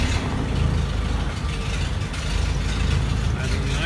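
A small engine idles steadily in a workshop, a continuous, fairly loud rumble with no breaks or changes in pace.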